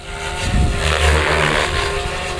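An RC helicopter pirouetting upside down in one spot gives a loud, steady whirring rotor and motor drone with slight pulsing swells, close by and continuous with no talking.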